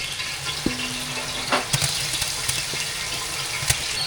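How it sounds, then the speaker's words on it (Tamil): Ginger-garlic paste sautéing with onion and tomato in a pan for vegetable biryani, giving a steady close sizzle and frying hiss with a few sharp clinks from stirring. "இஞ்சி பூண்டோட பச்சை வாசனை போகிற அளவுக்கு நல்லா வதக்கிக்கலாம்"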